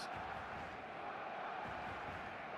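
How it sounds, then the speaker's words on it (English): Stadium crowd noise in the eFootball video game on match day: a dense, steady roar of a full crowd, broad and continuous at moderate level throughout, without distinct cheers or voices standing out. "The stadium is full of noise and energy."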